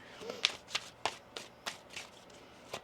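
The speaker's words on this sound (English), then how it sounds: "One more shuffle here." Cards being shuffled close by, a series of soft riffling bursts about every third of a second, fairly quiet with no talking.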